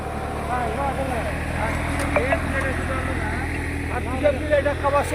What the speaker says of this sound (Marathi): बघा ही साधा नांगर ट्रॅक्टर किती किती मारीत चालले